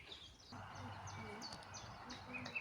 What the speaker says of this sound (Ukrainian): Природа чарівна, тут так пташечки співають.